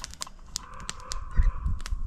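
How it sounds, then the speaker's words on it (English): Crows caw beside a campfire, several sharp calls coming in quick bursts at a moderate distance. Faint crackling and low rustling from the fire sit underneath. "You can hear the crows"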